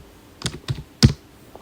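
Typing on a laptop keyboard in a code editor: a few soft, close key clicks spaced irregularly, with one firmer press, and no talk.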